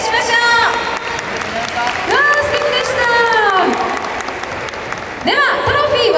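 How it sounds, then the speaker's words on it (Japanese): Loud, sustained applause from a festival crowd at an outdoor main stage in Osaka after a dance troupe performs, with an announcer's voice rising above the clapping several times. "大きな拍手お願いしましょう。"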